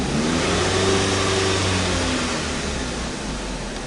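A 2012 Jeep Compass with a CVT transmission problem runs at a steady mid-pitched engine drone, held near constant and loud and close, easing slightly toward the end without a sharp rev.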